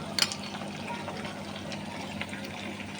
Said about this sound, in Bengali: আমি আবারও এক মিনিটের মতো একটু নাড়তে থাকবো কষিয়ে নেব